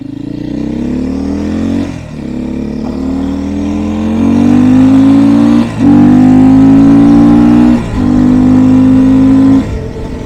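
A Beta 500 RRS dual sport motorcycle's single-cylinder engine revs loud and close, climbing in pitch through several pulls separated by brief dips as gears change, with no talk over it.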